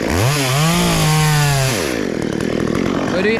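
A loud, close chainsaw cuts a coconut tree, its engine revving up and holding a high whine, then dropping into a rougher, sputtering bite as the chain works through the trunk.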